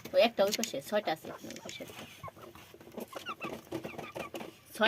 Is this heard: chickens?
yes